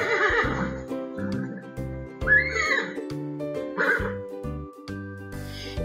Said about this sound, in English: Yes, it's a horse.